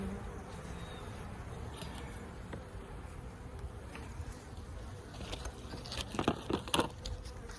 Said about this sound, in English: I can hear some bees in there, so we know there's a cluster.